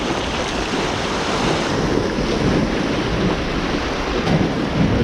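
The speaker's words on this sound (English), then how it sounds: "Fairly big swell rolling in here today, which is strange for the east coast." A big ocean swell rolls onto an east coast shore in early winter, a loud, broad, continuous roar of surf with wind buffeting the microphone.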